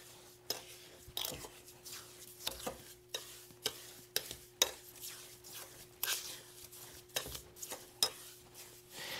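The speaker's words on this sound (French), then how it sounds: "Et on va brasser le tout pour que le sable devienne bien humide." Wet sand stirred in a bowl, a string of gritty scraping strokes repeating every half second or so at close range, steady and fairly quiet with no voices.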